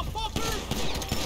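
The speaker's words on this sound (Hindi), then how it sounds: "गोली चलाएगा मेरे पे।" Several sharp bursts of gunfire in the video game GTA 5, spaced irregularly and mixed with in-game noise under a talking voice.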